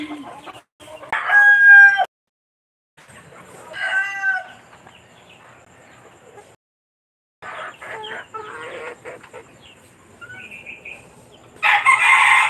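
Roosters crow three or four times in loud, drawn-out calls split by short silences, with faint clucking between them and a final harsh crow at the end.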